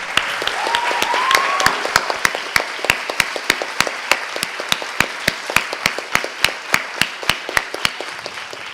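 Audience applause for the moderator of an arts festival panel, starting as a dense wash of clapping that thins into slow, rhythmic unison claps near the microphone, each one sharp and distinct.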